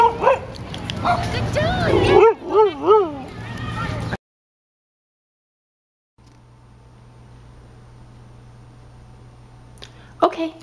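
A dog yips and barks in a short excited burst during trick training, near and clear, amid a handler's spoken cues and praise, followed by a quiet stretch and faint background hum.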